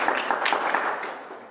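A short burst of audience clapping fades out over about a second and a half, fairly soft and with no talk over it.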